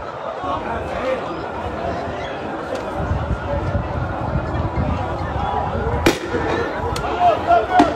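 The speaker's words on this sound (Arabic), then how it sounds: "قوات الاحتلال تقتحم المسجد الاقصى وتطلق قنابل الصوت والغاز والرصاص المطاطي على الشبان" Stun grenades and rubber bullets go off at Al-Aqsa Mosque as a crowd mills about, a few sharp bangs cutting through constant chatter and commotion.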